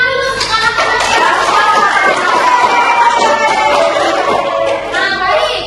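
Students in a classroom clap for their classmates at the close of a physics microteaching lesson on temperature and heat, a steady, moderately loud patter of many hands with scattered voices and chatter mixed in throughout.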